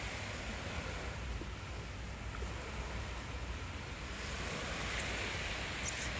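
Soft, steady wash of sea waves at night beside the old city wall of Acre (Akko), Israel, heard as a low continuous rumble with faint wind, no voices, and a tiny click near the end.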